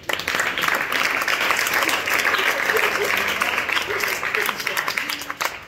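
A church congregation applauding during a French-language blessing prayer service, sustained loud clapping from many hands filling the room, with voices audible amid the applause.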